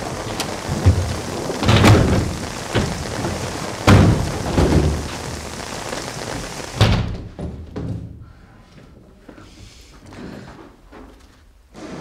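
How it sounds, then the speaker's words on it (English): Rain pours steadily while heavy thunder cracks and booms several times, then the storm noise drops away to quieter patter. "Do you know that it's raining outside?"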